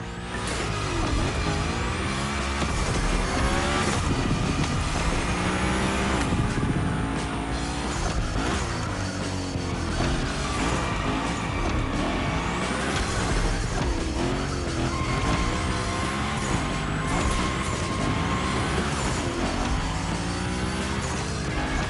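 Hoonigan gymkhana car in The Crew Motorfest video game drifting hard, its engine revving and wailing continuously while tires squeal through long slides, loud and close throughout with no talk.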